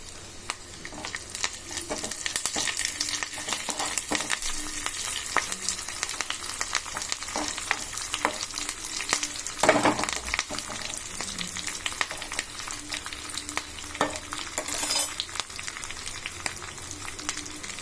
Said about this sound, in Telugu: చూడండి ఎండుమిరపకాయలు కరివేపాకు